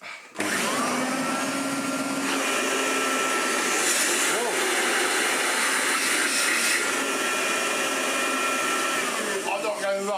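A restored 1985 Hotpoint Super 3650 vacuum cleaner runs loud and steady with a broad whooshing fan roar, starting up abruptly after a brief moment and holding constant throughout.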